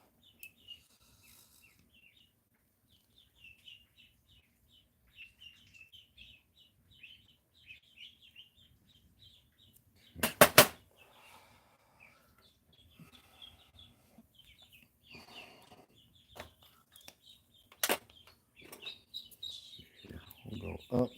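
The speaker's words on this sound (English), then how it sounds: "the ducks are going off." Ducks call in a steady run of short, faint, high chirping notes for about ten seconds, followed by a few sharp knocks and clatter nearby.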